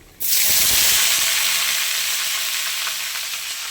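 Panch phoron five-spice and dried red chillies hitting hot oil in a pan, a sudden loud burst of sizzling that starts abruptly and then fades slightly while staying steady and close.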